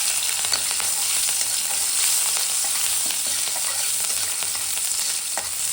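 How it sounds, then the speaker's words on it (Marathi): Steady, dense crackling sizzle of mustard seeds frying in hot ghee in a kadhai, loud and continuous with small pops throughout. "तूप छान गरम झालं की त्याच्यामध्ये आपण मोहरी टाकणार आहोत"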